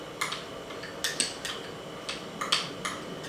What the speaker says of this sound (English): So just going to mix in the peanut butter.